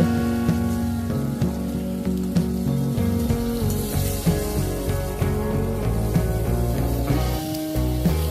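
Pointed gourd and potato pieces frying in oil: a dense, continuous crackling sizzle like rain on a surface, steady and close throughout, with a low hum underneath.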